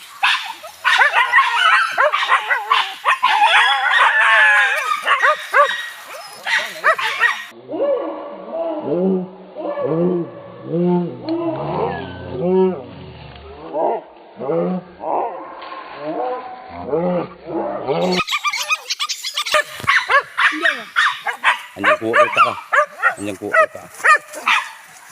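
Hunting dogs on a traditional Indonesian hunt bark and yelp loudly and repeatedly in dense, overlapping bursts, with people's voices mixed in throughout.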